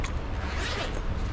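A zipper on a Yonex Tournament 3D Black Edition badminton bag is pulled open in one continuous, close, rasping stroke lasting about a second, with no talking.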